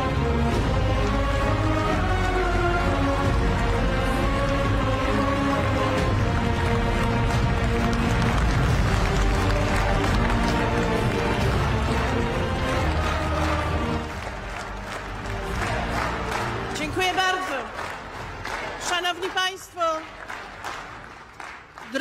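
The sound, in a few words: crowd applause at a political convention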